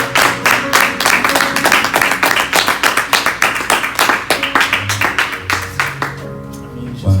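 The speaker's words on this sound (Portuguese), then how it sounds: "Irmãos, dê um lindo aplauso a Jesus." Rhythmic congregational clapping for Jesus in a church service, strong regular beats at a quick tempo with music underneath, thinning out toward the end.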